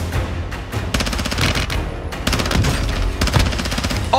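Rapid automatic gunfire in the Warzone video game, loud sustained bursts of rattling shots with brief gaps between volleys.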